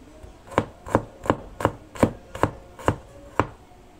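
Garlic being chopped with a knife on a board, nine sharp, evenly spaced knocks at a brisk rhythm, close and crisp with no talk.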